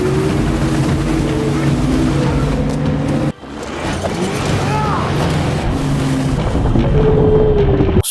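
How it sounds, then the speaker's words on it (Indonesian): A motorboat engine drones through a film chase, a loud, steady engine roar mixed with water rush that cuts out briefly partway through and then resumes. A voice talks over it. "Namun Dalton berhasil menghindar dan malah bisa mengambil alih kapal Knox."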